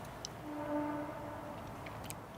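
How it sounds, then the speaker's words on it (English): A train sounds its horn in the distance, heard from a campsite in a forest at evening: a faint sustained horn tone over a low rumble, with a few soft clicks nearby. "That's just a train."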